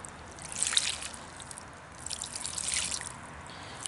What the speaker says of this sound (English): I'm going to give them a little bit of water